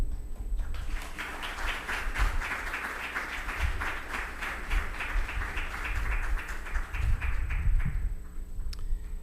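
Audience applause after a speech at a prize ceremony for investigative journalism, a steady wash of many hands clapping that holds for about eight seconds before thinning out at the end.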